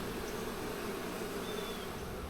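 A dense, steady hum of many honey bees buzzing during a hive inspection, close and continuous with no pauses and nobody speaking.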